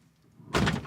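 A car door swung shut before a dive outing, one close, solid thunk after a moment of near silence, with nobody talking.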